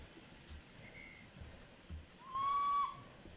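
A short, clear LNER B12 steam locomotive whistle in a video game blows once at the end over quiet background rumble, with a faint whistle-like tone earlier.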